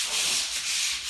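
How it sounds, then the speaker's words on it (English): Wooden window frames on a new-build plot are rubbed down by hand with abrasive before spray painting, a steady, close, breathy scraping that swells and eases in continuous strokes with no talking. "get all your frames rubbed down"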